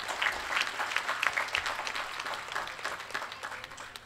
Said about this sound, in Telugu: అందరం కూడా చప్పట్లు కొడుతూ